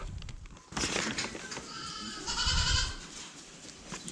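Newborn kid goats and adult goats bleat several times close by in a barn during kidding, overlapping calls rising and falling across a few seconds.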